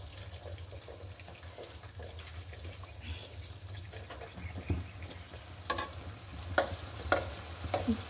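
Two eggs frying in hot oil in a pan with sliced ridge gourd, a low steady sizzle with occasional sharper crackles and spatula scrapes toward the end.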